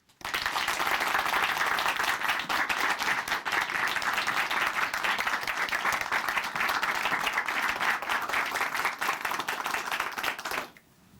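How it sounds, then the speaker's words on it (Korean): Audience applause in a church gathering welcoming a woman forward to share her testimony: dense, steady clapping that runs for about ten seconds, then stops abruptly. "박수로 모시겠습니다"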